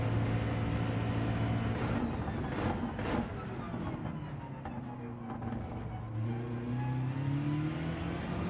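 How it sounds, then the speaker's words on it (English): A car in Gran Turismo 7 revs out hard in fifth gear, its engine note droning loudly and steadily with rising harmonics throughout. "with this car you just rev the shit out of 5th"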